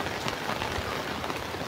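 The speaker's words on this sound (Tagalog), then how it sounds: "Ang lakas pa rin ng ulan po dito sa Bicol, gawa ng bagyo." Heavy typhoon rain from Typhoon Kristine pouring in Bicol, a steady dense hiss of drops hitting surfaces, fairly soft and continuous with no voices.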